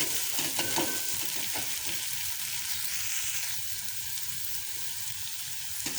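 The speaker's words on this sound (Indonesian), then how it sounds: "Kurang lebih kita tumis 3-5 menit" Chili, shallot, garlic, ginger, lemongrass and spring onion stir-fried in a pan for beef mercon, a continuous loud broadband sizzle with scraping spatula strokes early on, steady throughout.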